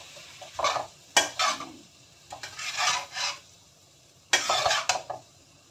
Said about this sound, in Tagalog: Ayan, sauce natin halo-haloin guys.